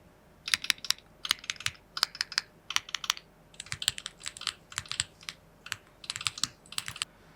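Crisp typing on a magnetic-switch keyboard in short bursts of quick clicky keystrokes with brief pauses between them, close and fairly quiet.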